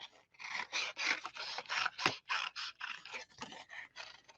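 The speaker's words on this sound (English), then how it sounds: "So in this case, I want to snip there." Scissors snip through cardstock for a partial die cut in a rapid run of about a dozen short, rhythmic crisp cuts, close and clear with one sharp click midway and no talk.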